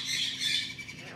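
Red-crowned Amazon parrot, also called green-cheeked or Mexican red-headed Amazon, lets out a close, harsh squawk lasting about a second, rising then trailing off.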